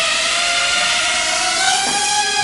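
A Tera mini radio-controlled quadcopter drone whines steadily as it lifts off, a loud close buzzing tone whose pitch glides slightly as the motors shift speed.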